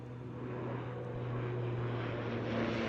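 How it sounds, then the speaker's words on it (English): A fire retardant jet plane flies over a wildfire near Peachland, a faint steady distant aircraft drone that swells slightly as it passes, with no talk. "there's the retardant plane."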